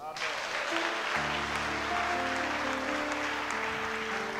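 Church congregation at a worship service clapping and cheering for Jesus, dense sustained applause with a held keyboard chord underneath throughout.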